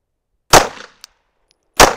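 Two sharp, loud pistol shots about a second apart on a training range, each cracking suddenly and decaying quickly, with a faint metallic click between them, during a tap-rack-bang malfunction drill.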